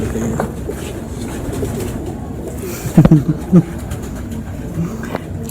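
Pigeons of a wild breed coo in a loft, soft low calls rising in a few short bursts near the middle against a steady background hum.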